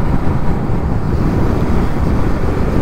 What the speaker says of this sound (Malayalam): അയ്യോ നല്ല കാറ്റ് ബാക്കിലേക്ക്.